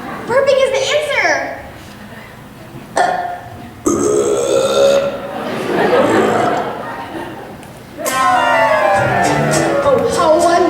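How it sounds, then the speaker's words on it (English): Long exaggerated burps from the Willy Wonka film, several drawn-out resonant belches in sequence, loud and close, mixed with voices and chuckling. "Burping is the answer."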